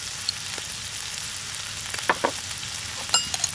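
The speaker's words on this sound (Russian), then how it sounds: "Пока следующая партия жирка растапливается" Lamb fat sizzles and crackles as it renders in a pan, a soft steady hiss broken by a few sharper pops, close and fairly quiet with no talking.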